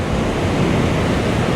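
Sea waves surging on Gopalpur beach, a steady loud broadband roar of surf with wind noise buffeting the microphone throughout, no voices.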